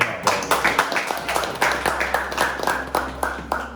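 A small audience claps at Savi's Workshop lightsaber build, a few hands striking in quick, fairly even rhythm, close and clear over a low steady hum.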